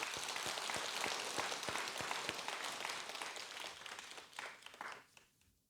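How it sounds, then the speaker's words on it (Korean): Audience applause at a Jogyesa temple dharma talk on the winter solstice, a dense crowd of clapping hands rolling steadily and fairly loud, then thinning and fading out near the end. "우리 다시 한번 큰 박수를 한번 보내주십시오"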